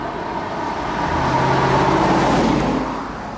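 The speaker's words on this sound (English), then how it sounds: "That would have been an ideal drag launch right there." A 2015 Ford Mustang EcoBoost pulls away in a hard drag-style launch, its engine note building steadily and loud over a few seconds before easing off at the end.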